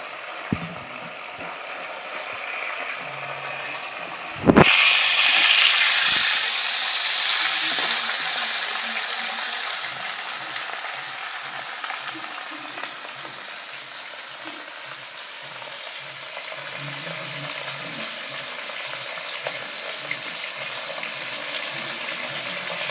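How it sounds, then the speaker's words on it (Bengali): Bhola fish frying in hot oil and being flipped: a sudden clatter as a piece turns over, then a loud, continuous close-up sizzle that gradually settles. "মাছগুলো এক পিট ভাজা হয়ে গেছে আর এক পিট আমি উল্টে নিচ্ছি"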